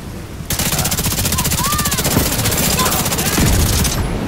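A big gun in The Division 2 fires a continuous rapid stream of heavy shots for several seconds, loud and close, with a brief voice heard under the barrage.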